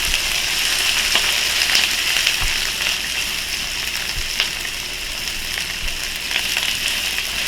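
Onions fry in a pan for a vegan Mongolian beef dish, giving a steady, fairly loud sizzle with a few soft low knocks from the pan.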